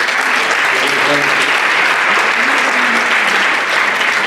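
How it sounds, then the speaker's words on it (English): Conference audience applauding, a steady dense wash of clapping that holds loud and even throughout with a faint voice underneath. "So I'd like to give them a round of applause"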